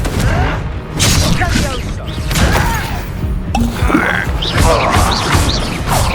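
Confringo fire spell blasts in Hogwarts Legacy: a rapid series of loud booming explosions and crashes in combat, with a voice shouting spell names among the impacts.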